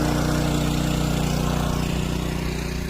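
Motor-driven water pump drawing water from a well, a loud, close, steady engine drone with a throbbing low hum that runs unbroken throughout.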